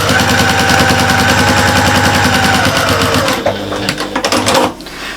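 A sewing machine quilts through three layers of fabric for a large shopper bag, running loud, close and steady with a fast rhythmic chatter, then slowing to a few separate stitches before stopping.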